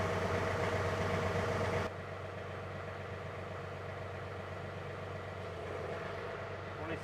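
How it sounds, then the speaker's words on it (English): A John Deere 3R compact cab tractor engine runs at a steady, low idle hum, fairly faint, with the level dropping slightly after the first couple of seconds and holding even afterward. "start the tractor back up"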